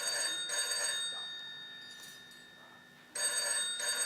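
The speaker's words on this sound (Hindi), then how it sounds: "जाके फोन उठाओ।" A telephone rings in a stage play, two bursts of bright trilling bell tone separated by a pause, fairly close and clear with no talk over it.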